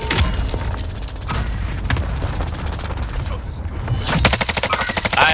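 Rapid automatic gunfire in a Modern Warfare match, dense bursts running almost continuously, louder and sharper near the end, with muffled player chatter underneath.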